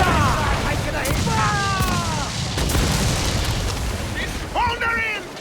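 Ship cannons boom in the naval combat of Assassin's Creed IV, with heavy rumbling blasts under game music and shouting crew voices, dense and loud throughout.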